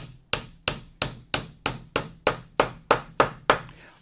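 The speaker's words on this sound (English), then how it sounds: "And a wooden mallet." A handmade wooden mallet tapping a wooden garden bench under repair, eleven evenly spaced sharp knocks about a third of a second apart, close and clear with no talk.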